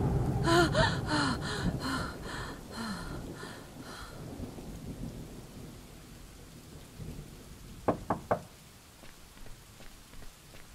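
A storm in the horror adventure game The Charnel House Trilogy opens with a person's ragged gasping breaths over heavy rain and rumbling thunder. The rain then settles into a softer wash, and sharp rattling bangs burst out near the end.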